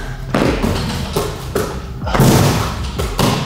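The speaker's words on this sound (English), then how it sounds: "Okay guys, Logan's playing basketball right now and I hear him" A basketball bounces indoors, giving a series of loud, heavy thuds at an uneven rhythm, roughly five or six bounces close by, with no talk.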